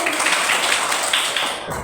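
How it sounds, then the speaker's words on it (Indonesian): Students in an Indonesian primary school classroom clap together in a brief burst of applause, dense and fairly close, tailing off after under two seconds. "tepuk tangan untuk kalian"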